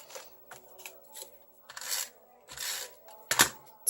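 A snail tape-runner dispenses adhesive onto patterned paper in a series of soft, close scraping and rubbing strokes with brief taps between them. There is no talking over them.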